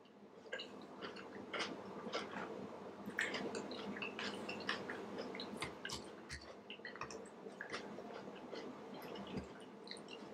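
Close, steady crunching and chewing of salad with Parmesan during a pasta and lasagna meal, with moist bites and clicks repeating throughout and no talking.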